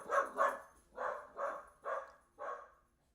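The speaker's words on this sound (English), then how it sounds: "Sorry, the dog is going crazy in the background." A dog barks six times in a steady, insistent rhythm. The barks are fairly close and loud, with short quiet gaps between them.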